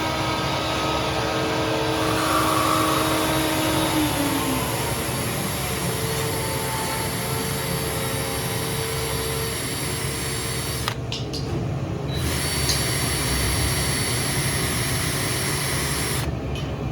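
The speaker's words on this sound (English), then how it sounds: "And then we drill." A drill boring dowel holes in wood, a steady, loud mechanical whirring grinding on at length, with two short breaks in the upper hiss toward the end.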